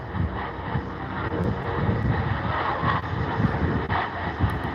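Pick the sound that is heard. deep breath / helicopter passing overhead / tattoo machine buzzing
helicopter passing overhead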